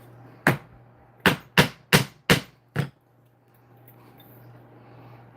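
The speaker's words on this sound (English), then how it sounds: "I really need some new chisels." Hollow-tip carving chisels, worn out, strike the workpiece in six sharp, evenly spaced knocks working around a curve, loud and close, followed by quiet room tone with a steady low hum underneath.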